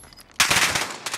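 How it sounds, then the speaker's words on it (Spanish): Video game gunfire breaks out as a sudden close burst of rapid automatic shots, cutting off briefly and then resuming, after a quiet start. "Está disparando."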